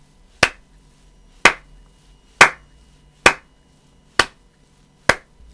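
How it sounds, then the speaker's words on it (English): Slow, leisurely hand clapping from a single person, six crisp separate claps spaced about a second apart, close and clear against near silence. "A sudden round of applause."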